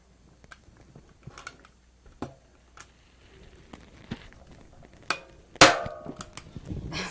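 A staple gun fired into material during a craft project, with scattered light taps and handling clicks leading up to one sharp, loud snap near the end, followed by a few more clicks, close by and with no talking.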